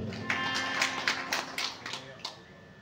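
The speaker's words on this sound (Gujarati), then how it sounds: "સાઉન્ડના ભાઈને પણ જોરદાર તાળીઓ દો" Audience at a devotional satsang gathering claps for the sound crew, a short burst of scattered hand claps and taps, fairly close and uneven, with a voice talking over them.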